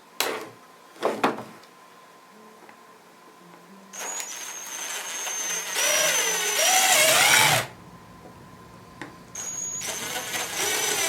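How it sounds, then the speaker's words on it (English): Power drill boring holes in a car iPad stand mount, heard as a few short bursts followed by longer whining runs that rise and dip in pitch, fairly close, with quiet pauses between and no talk. "I'm going to drill these other holes in here"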